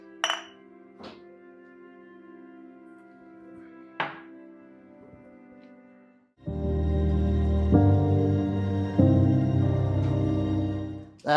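Drinking glasses clink together in a toast, a few bright isolated chimes ringing out over quiet, followed by a swelling sustained musical passage.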